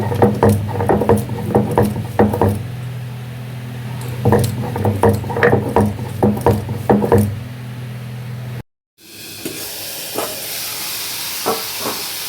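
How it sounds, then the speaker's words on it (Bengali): Poppy seeds and coconut ground together on a Bengali stone grinding slab: repeated rough scraping and knocking strokes in bursts, close and fairly loud, breaking off briefly before a quieter stretch of scraping. "এবার আমি পোস্ত আর নারকেল একসাথে বেটে নিচ্ছি শিলে।"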